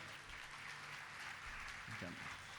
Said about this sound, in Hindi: लेकिन ताली बज रही है